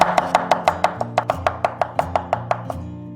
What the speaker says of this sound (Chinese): 准备葱姜蒜，我们全部给它拍碎，然后切成末。